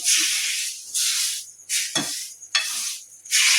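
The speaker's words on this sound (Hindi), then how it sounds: "आब तरकारी के छौंक दै छियै।" Loud bursts of sizzling hiss from potatoes and beans tempered in hot ghee, coming in several waves with brief pauses and a metal clink in the middle.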